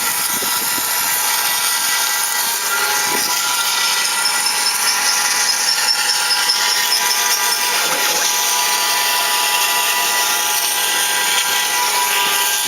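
A CNC machine runs a programmed cut into an aircraft spar for an MD-87, producing a continuous, steady high-pitched whine and grinding with small fluctuations, no voices.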